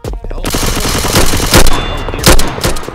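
Rapid automatic gunfire from overpowered weapons in a randomized shooter game, dense bursts of loud shots with heavier blasts near the middle and end, continuous and close.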